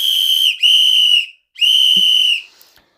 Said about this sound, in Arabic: انا معايا صفارة سبايدر مان وهصفر له